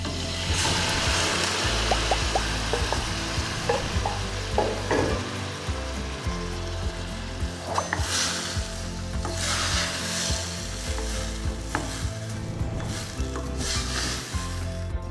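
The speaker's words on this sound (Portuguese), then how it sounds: "O tomate começou a refogar, começou a soltar bastante água." Chopped tomatoes sauté in a pan with garlic, giving off a steady, loud sizzle and frying hiss. A spoon scrapes and stirs through it at irregular moments, and there is no talk.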